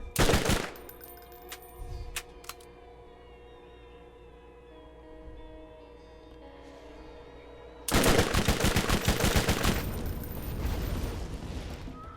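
A scoped machine gun in the video game Borderlands fires a short rapid burst, goes quiet under a lingering tone, then unleashes a long, loud, sustained stream of automatic fire.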